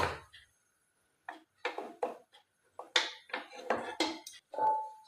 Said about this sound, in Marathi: कुकर आधीच प्रीहीट करून घेतलेला आहे त्यामध्ये आता आपण हे भांड ठेवूया